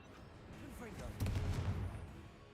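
A Confringo blasting spell cast in a video game: a sudden broadband explosive burst with a low rumbling boom lasting about a second, rising out of quieter game ambience and fading away.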